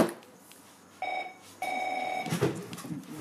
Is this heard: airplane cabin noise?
no